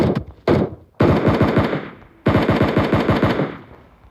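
Loud automatic gunfire rings out nearby in several rapid bursts, with short gaps between each volley of sharp, rattling shots.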